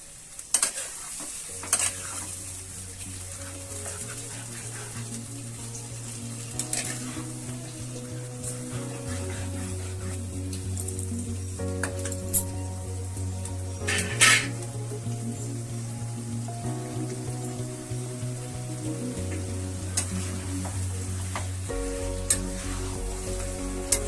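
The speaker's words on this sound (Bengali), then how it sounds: "দিয়ে এবার ভালো করে কষাবো।" Chicken kosha being stir-fried in a pan, with a steady sizzle and repeated scraping stirs running throughout, set against steady background music.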